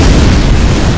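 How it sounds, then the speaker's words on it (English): Booming explosion from the artillery game Shell Shock Live, a loud sustained low rumble filling the whole second with no clear separate blasts. "We hit him with those explosions."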